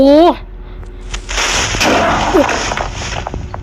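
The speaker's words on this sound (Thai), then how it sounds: "มันระเบิดเร็วนะครับ" A Minecraft TNT explosion: a sharp blast bursts out, followed by a long crackling, rumbling roar that fades slowly, with a brief voice exclamation at the start.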